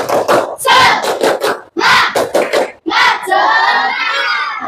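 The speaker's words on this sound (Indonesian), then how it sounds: "yuk kita tepuk semangat dulu" A fifth-grade primary school class in Singkawang shouts a rhythmic spirit chant in unison, punctuated by quick group claps. The chant comes in short bursts with brief pauses and ends in a sustained crowd cheer, loud and close.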